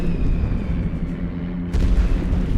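Artillery in The Great War: Western Front game rumbles as a low continuous roar of distant booms, with a heavier blast landing near the end.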